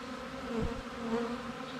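Honey bees hum steadily at a hive with a new brood chamber, a close, continuous buzz with one bee droning past nearby.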